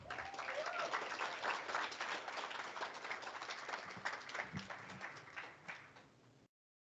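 An audience at an impact investing forum in Kenya claps for a poet, with dense applause that fades gradually and thins out before cutting off.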